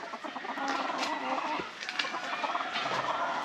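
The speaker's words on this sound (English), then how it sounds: "Some of our giant chickens here. See the roosters." Roosters and chickens on a Jamaican animal farm cluck and squawk together in a busy, moderately close flock chorus, with overlapping calls and no speech.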